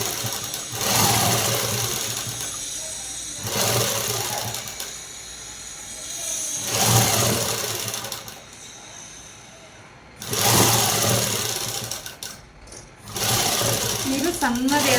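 Sewing machine stitching along the side of fabric: four loud, steady mechanical runs of rapid whirring, each lasting a couple of seconds, separated by pauses in which someone talks quietly.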